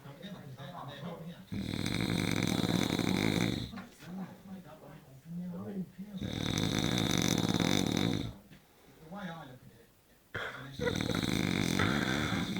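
A man snores loudly while asleep, long rasping inhales repeating every few seconds with quieter breathing between, close to the listener.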